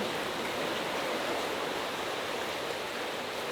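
A coastal stream pours steadily over rock that it has carved, giving a dense, even rush of water that stays loud and unbroken throughout, with no voices.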